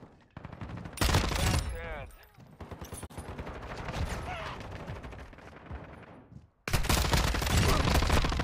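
Heavy sustained automatic gunfire in a shooter video game, fired through a wall, coming in loud dense volleys that stop and start again, with voices talking between and under the shots.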